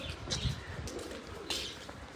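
Pigeons coo softly nearby, low throaty calls repeating over a faint background hiss, with a brief brighter chirp or two.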